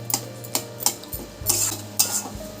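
Egg and eggplant curry being sautéed in a pan, a series of distinct metallic scrapes and clinks of a spoon against the pan at an uneven pace over a soft background hum, close and without voices.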